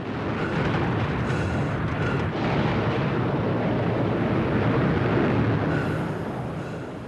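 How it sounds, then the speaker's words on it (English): Rocket engines of the Bell X-1 igniting in flight, a loud, continuous broadband roar that holds steady for several seconds before easing slightly at the end, with no voices. "Yeager ignited each of the 4 rockets and was thrown back in his seat."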